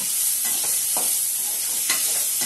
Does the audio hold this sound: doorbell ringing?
no